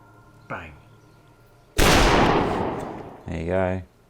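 A gunshot from a TV drama scene on an island, a single sharp loud burst that decays over about a second and a half, with brief speech just before and after.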